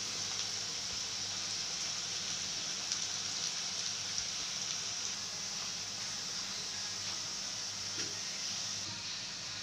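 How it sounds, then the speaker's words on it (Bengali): Onions and cumin seeds frying in hot oil, a dense steady sizzle and crackle, close and even throughout with faint pops, no talking. "এবারে তেলের মধ্যে অল্প জিরে দিয়ে দিলাম, পেঁয়াজ দিয়ে দিলাম। পেঁয়াজটাকে একটু লাল লাল করে প্রথমে ভেজে নেব।"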